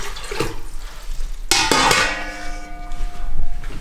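Collected rainwater dumped into a Berkey countertop water filter, a brief splashing gush that starts abruptly and trails off into trickling and faint drips, close by with no talk.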